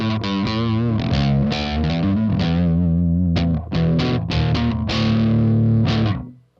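A bass guitar played through a Metal Zone distortion pedal: loud, heavily distorted notes, a run of plucked notes with sustained tones between, breaking briefly midway, then fading out at the end.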